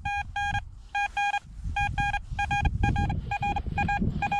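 Vista X metal detector with a 14-inch coil sounds over the edge of a metal plate, giving rapid, repeated pairs of bright electronic beeps in a stuttering rhythm. A low background rustle sits beneath the tones.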